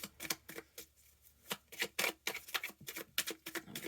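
Tarot cards being shuffled by hand: quick, papery riffling bursts in an uneven rhythm, close and fairly quiet, with no talk.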